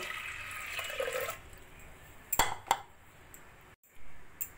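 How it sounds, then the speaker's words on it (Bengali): About half a bowl of water is poured over washed lentils in a pressure cooker, a soft splashing rush lasting around a second. Sharp metallic clinks and a brief dull bump follow. "প্রেসার কুকারে দিয়ে দেব আমি হাফ বাটি মতো জল"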